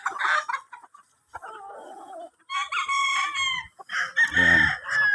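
Gamecock stags on a farm cluck and crow in several short bursts, close by and fairly loud, with a brief gap of quiet between calls.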